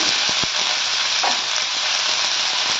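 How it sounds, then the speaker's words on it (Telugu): Cumin seeds and onions sizzle in hot oil, a loud continuous hiss with a few sharp pops near the start. "ఆయిల్ బాగా హీట్ అయిపోయింది మనం జీరా వేసేద్దాం వేసాక ఇప్పుడు కొన్ని ఆనియన్స్ వేసేసుకుని"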